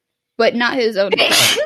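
A sneeze bursts out suddenly near the close, loud and close by, after a short stretch of someone talking.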